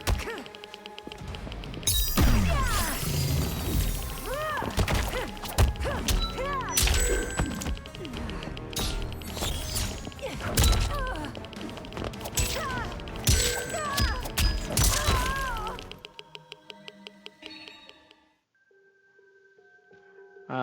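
Sound cues from the Mortal Kombat 1 fighting game's audio test: dense, loud stretches of whacks, crashes, thuds, rings and synth effects layered together, then a thinner tail of tones and clicks, with no talking.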